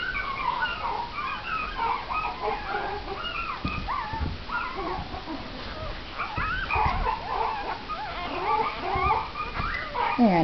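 Young Shih Tzu and Bichon mix puppies whimper and yip in a busy overlapping chorus of high squeaky cries, close by, with brief low sounds in between.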